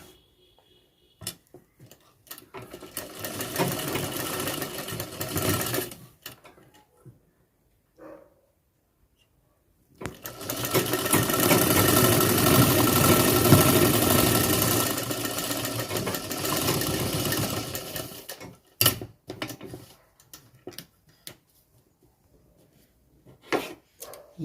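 Tailor's sewing machine stitching a pocket onto a garment, running in two long bursts of steady mechanical whirring, close and moderately loud, with brief taps and handling noises between.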